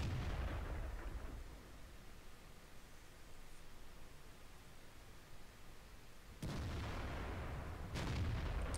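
A GW E-100 self-propelled artillery gun fires in World of Tanks, a loud booming blast that trails off into a long rumbling decay, then two more sharp heavy reports near the end.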